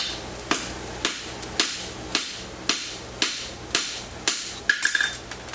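Hammer blows ring out on an anvil while a roadster wedge is forged, about ten sharp evenly spaced strikes roughly half a second apart, ending in a quick cluster of lighter taps.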